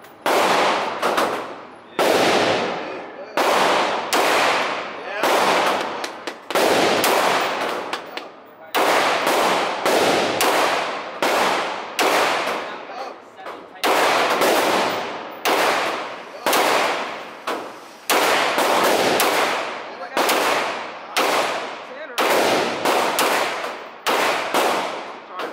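Guns fitted with 3D-printed parts fire at an outdoor range. Loud, close single shots come about once a second, with brief gaps between strings, and faint voices occasionally.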